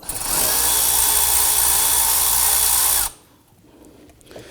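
Power driver with a 7mm socket loosening the lower intake tube on a 2015-2020 Ford F-150, a loud, steady high-pitched whir lasting about three seconds before stopping abruptly into quiet.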